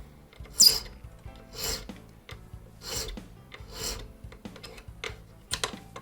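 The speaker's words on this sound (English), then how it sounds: "resting the end of the taper pin in one of the grooves, we file the end flat" Metal hand file rasping across the end of a brass taper pin held in a pin vise, filing it flat for a French Japy Freres mantle clock: quiet, close, irregular scraping strokes with short pauses between them.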